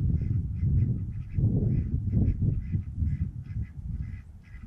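Ducks call in a busy, overlapping flock, with honking quacks rising and falling close by, no talking.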